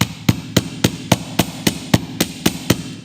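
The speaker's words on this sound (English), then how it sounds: "giving it a couple taps with the flat side of your hammer" A hammer's flat face taps a wire bracelet hook resting on a metal bench block, giving about ten sharp, evenly spaced metallic taps that are close and loud, with nothing else behind them.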